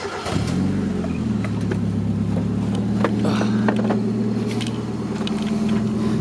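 A Mazda Miata engine catches on start and settles into a steady, smooth idle, a close continuous low hum running without any talk.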